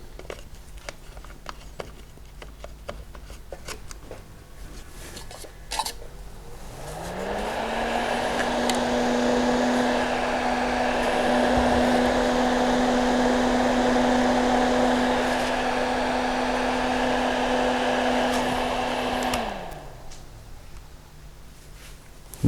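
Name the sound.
exhaust fan humming while running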